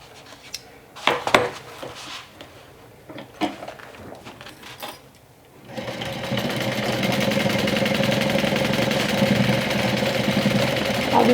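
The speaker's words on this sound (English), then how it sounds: "So now I'm going to sew right on top of my previous line." Home sewing machine stitching a cosmetic bag, running steadily and loudly for about the second half after a few clicks and knocks of handling at the start.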